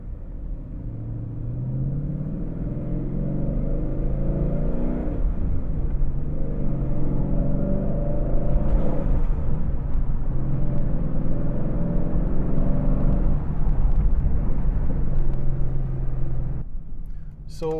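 A Ford Mustang pulls onto the road and cruises, its engine rumbling low and steady from inside the cabin, with tire and road noise droning continuously throughout.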